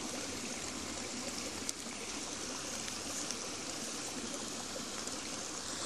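Water flows in a steady, broad rush like a stream running nearby, constant and unbroken with no voices.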